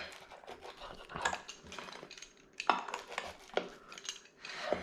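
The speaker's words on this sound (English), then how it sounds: "now that the pizza is cooled down, let's go ahead and let's get a cut into this" A knife or pizza cutter works through a crispy pepperoni pizza, giving off quiet crunches and scrapes against a plate or pan in short irregular bursts, with brief utensil clinks.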